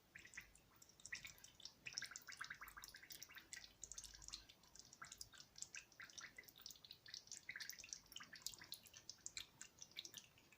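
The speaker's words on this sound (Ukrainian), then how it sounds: "І тепер заливаю маринадом." Marinade poured over layered hot peppers and carrots in a jar, a steady trickle of liquid with fine dripping and splashing detail, close and continuous, no voices.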